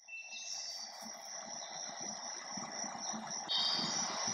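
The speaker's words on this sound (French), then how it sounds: "Voici les bruits de la forêt." Forest ambience with birds played from a Google Home smart speaker: a steady bed of rustling noise with high chirping and whistling bird calls layered on top, holding at an even level throughout.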